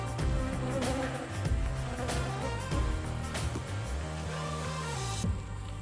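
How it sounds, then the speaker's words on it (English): Honey bees buzz as a steady droning hum with overlapping tones, close and continuous, with occasional louder passes and fluctuations. "Busy bees."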